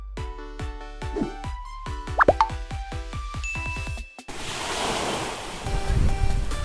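Sea surf breaking right beside a beachfront hotel in Pattaya, Thailand, enters after a stretch of plucked, tinkling music and takes over as a loud, steady, broad wash, with wind buffeting the microphone and heavier swells rising near the end.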